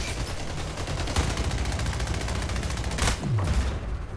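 Gunfire in the arena shooter Splitgate: rapid automatic shots crackle in a dense continuous stream, close and loud, with a couple of heavier booms and a low swooping sound near the end, no talking.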